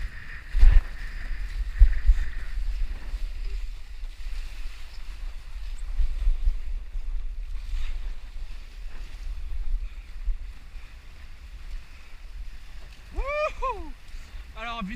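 A windsurf board jibes across the water in wind, with low rumbling wind buffeting and water rush throughout, a few knocks early on and a brief voice near the end.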